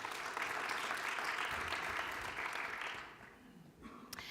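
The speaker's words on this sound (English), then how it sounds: "A round of applause for them, please." Sustained audience applause, a dense steady wash of clapping that tapers off after a few seconds.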